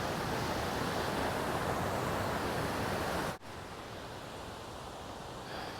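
Hunters Creek in Rocky Mountain National Park rushes beside a hiking trail as a constant broadband wash of flowing water. The level dips briefly partway through, then continues slightly quieter.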